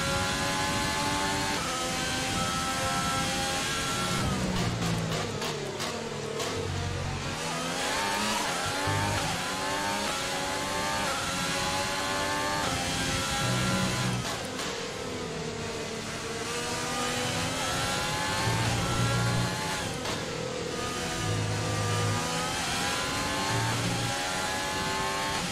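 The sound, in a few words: Ferrari Formula 1 car engine revving in video game F1 2020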